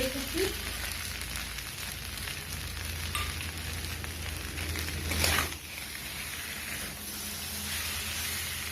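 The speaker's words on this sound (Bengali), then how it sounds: "মশলাটা দিয়ে ভাজা হয়ে গেছে" Spices sizzle and fry in a pan with cucumber and fried prawns, a steady broadband crackle running throughout with a brief louder stir burst near the middle.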